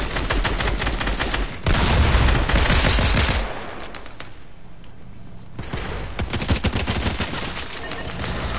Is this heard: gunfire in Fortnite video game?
yes